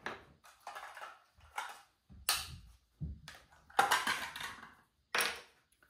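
Oxalic acid crystals are stirred into water in a jar with a series of short gritty scraping and clinking strokes. The strokes come in irregular bursts, close up and fairly quiet, with no talking.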